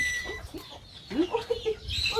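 Chickens cluck and squawk in short, close bursts around a rural Thai Isan household, with a brief voice at the start.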